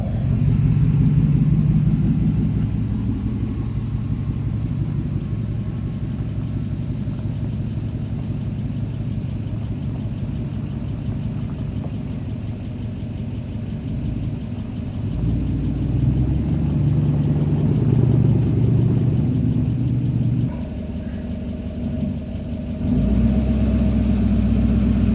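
A vehicle engine rumbles steadily for a long stretch, swelling with a few deeper revs and dips in loudness, close by with no talking.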